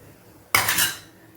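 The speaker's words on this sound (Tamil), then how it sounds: "நம்ம இந்த நட்ஸ் எல்லாம் போட்டு வறுத்து எடுத்துக்குவோம்" Nuts dropped into a hot pan and stirred while roasting for a Kasi halwa, a single sudden metallic clatter and sizzle that lingers for about half a second before fading, with no talking.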